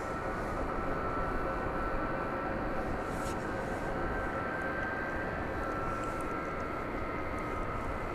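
Steady broadband roar of an Airbus A300 jet at DFW Airport at night, a continuous engine rumble holding level throughout with a faint whine above it, no voices heard.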